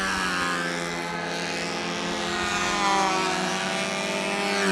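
A model airplane engine running at a model aircraft nationals event, a loud, steady high-pitched buzzing drone held close and continuous throughout, with no talk over it.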